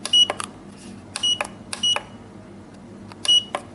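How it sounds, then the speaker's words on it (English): A T180 R18 wireless coaster pager emitting short, sharp electronic beeps in small groups with pauses between them, close and fairly clear over a quiet background hiss. "When you call the pagers, it will light, vibration, and beep."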